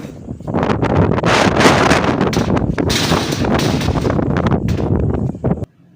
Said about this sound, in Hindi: वॉक से आने के बाद इतनी प्यारी हवा चली,